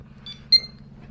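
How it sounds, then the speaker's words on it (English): A JGINYUE B250M motherboard gives a single short, high POST beep at startup, alone over a low electrical hum. "we should get one beep as always"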